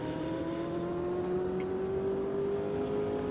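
Steady engine drone from inside a race car's cockpit in the Automobilista 2 sim, a constant tone slowly climbing in pitch as the car accelerates, with a faint exhaust note and no voices.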